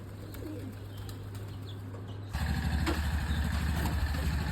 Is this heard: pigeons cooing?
yes